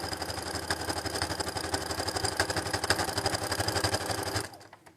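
An electric sewing machine runs steadily, stitching a seam along a marked line on patchwork fabric, its fast even whirring motor and needle clatter continuing close up for several seconds before stopping abruptly near the end.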